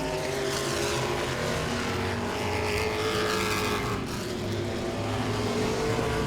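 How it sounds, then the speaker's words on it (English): Modified race cars circle Langley Speedway in a continuous loud engine roar, several cars droning past together with a steady pitch and no break throughout. "Anthony Kincaid makes his way around the 87 of Darrell Vance, who is a lap or 2 down."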